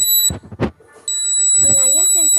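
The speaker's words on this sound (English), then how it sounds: "When IR sensor detects any near communication, it will give the buzzer sound." Steady high-pitched electronic buzzer tone from an IR-sensor anti-collision alarm in a LiFi vehicle-to-vehicle data system, sounding in two stretches with a short gap, under brief talk.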